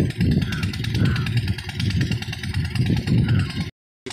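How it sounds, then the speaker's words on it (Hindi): Small, light engine running a water pump to drain a fish pond for harvest, a loud, close, buzzing chug with an uneven pulse that cuts out abruptly near the end. "मतलब मशीन होता है जो छोटा चक्के का इंजन होता है, वो हल्का होता है"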